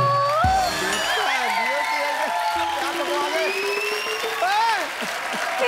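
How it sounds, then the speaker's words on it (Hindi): Studio audience applause on the set of The Kapil Sharma Show, a Hindi comedy program, rolls steadily through the whole stretch, mixed with cheering and bright musical tones. "ठोको ताली।"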